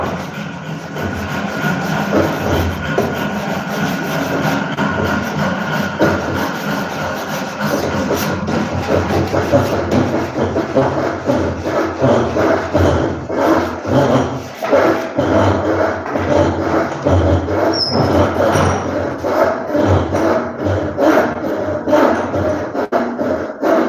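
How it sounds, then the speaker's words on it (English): Sandpaper smooths a handmade wooden craft piece in steady, continuous back-and-forth rasping strokes, close and fairly loud throughout, with no talking. "Right now I'm just using the sandpaper to smoothing the surface of my work."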